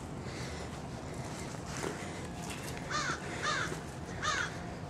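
Crows cawing three times in a steady rhythm at a moderate distance on provincial mental hospital grounds, over a constant outdoor hum of traffic and wind.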